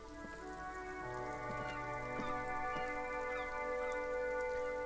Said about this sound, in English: I don't remember noticing like rain effects before.